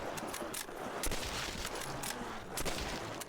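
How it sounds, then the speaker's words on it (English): Rapid gunfire in a Call of Duty: World at War Nazi Zombies custom map, Badlands: repeated close, loud bursts of shots cracking in an irregular rhythm throughout. "see that shooting sound is like making my ears throb"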